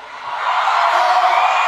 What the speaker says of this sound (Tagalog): Tingnan nga natin kung sino yung malakas ang sigawan.